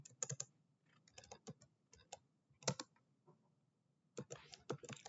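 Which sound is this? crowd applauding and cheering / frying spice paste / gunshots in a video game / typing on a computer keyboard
typing on a computer keyboard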